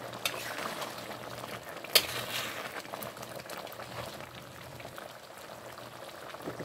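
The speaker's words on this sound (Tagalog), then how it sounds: "Pakuluan pa natin at palambutin ang patatas. Ayan, haluin natin." Pork giniling with potatoes bubbling at a low, steady simmer in a pot, with a soft, continuous texture and one sharp clink of a spoon stirring near the start.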